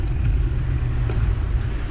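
A car driving through city traffic in Merida, Mexico, heard from inside as a steady low engine rumble and road noise with no talking, continuous and fairly loud throughout.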